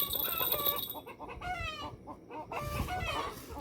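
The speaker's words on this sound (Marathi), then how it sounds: "त्याच्यामुळं कोंबड्या एवढ्या ओरडत आहेत" Chickens cluck and squawk nearby in agitated bursts, several birds calling over one another with brief pauses.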